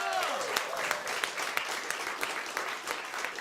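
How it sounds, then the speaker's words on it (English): An audience claps for the winners of a live show, a steady burst of applause with sharp individual claps throughout, slowly thinning toward the end. "Round of applause for our winners."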